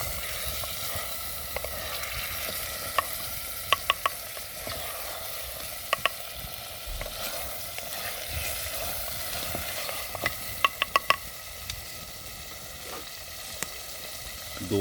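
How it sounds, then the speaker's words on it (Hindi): Mutton sizzles steadily as it is stirred and fried in a pan for aloo gosht, a Kashmiri potato and mutton curry, with the spoon giving scattered light clicks and scrapes against the pan. "गोश्त हमने शामिल किया, इसमें अच्छी तरह मिक्स करें।"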